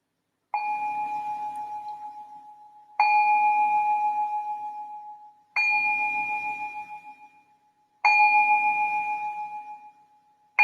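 A meditation bell is struck four times at slow, even intervals, with a fifth strike starting at the very end. Each strike rings out clear and resonant and fades slowly, with no other sound around it.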